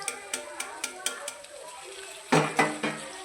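A utensil stirs chopped tomatoes into potatoes frying in a pan, with a run of light metallic scrapes and taps that swells into a louder, denser burst of stirring near the end.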